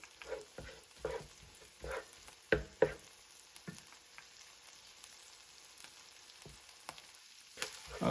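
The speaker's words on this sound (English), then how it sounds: "I've been sauteing this down for about 10 minutes." Vegetables sweating down in a pan for Cajun catfish courtbouillon, with faint sizzling and intermittent scrapes and clatter of stirring, fairly quiet with brief louder knocks.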